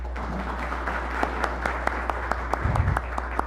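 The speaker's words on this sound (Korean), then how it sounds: "큰 박수로 맞이해 주시면 감사하겠습니다." Sparse, scattered handclaps from a small audience at a Korean National Assembly policy forum on the mobile content industry, welcoming a lawmaker to speak; the claps are light and intermittent over a steady low room hum.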